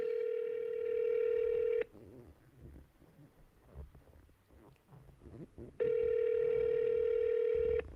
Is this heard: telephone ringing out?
yes